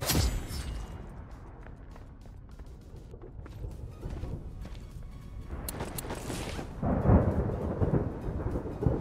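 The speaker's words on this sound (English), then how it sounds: "Now it's saying the storm is gonna hit me." Thunderstorm in the video game Lost Light: loud rolling thunder rumbles and crackles over steady rain, swelling into a heavy close clap near the end.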